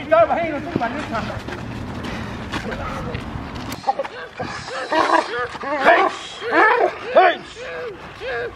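A Cane Corso barks in a series of loud, close yelps and woofs, mostly in the second half, while several people shout excitedly over and between the barks.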